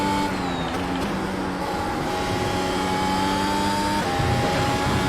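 A Mercedes W13 Formula 1 car in a racing video game holds a loud, steady high-pitched engine whine, its pitch stepping between gear changes without pause.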